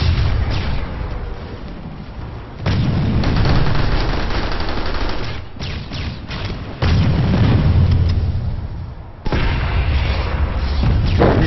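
Grenade explosions in the video game PlanetSide 2 land as heavy, loud booms in repeated bursts, mixed with rattling gunfire and battle noise.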